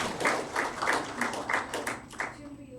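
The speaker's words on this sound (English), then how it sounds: "A big round of applause for the kid." A small talk audience claps for a child during a cyber crime awareness session, a short spell of light, fairly evenly spaced claps that thins out after a couple of seconds.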